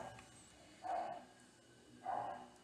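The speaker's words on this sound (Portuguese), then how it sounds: "Agora começa outro cachorro a latir também." A dog barks twice at a distance, faint, muffled single barks about a second apart over a steady low background hum.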